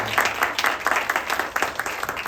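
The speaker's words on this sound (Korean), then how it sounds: "강한별 자매님께 큰 박수로" Church youth group members at an evangelism festival clap together in quick, rhythmic bursts that pulse steadily throughout, with a faint crowd murmur in the background.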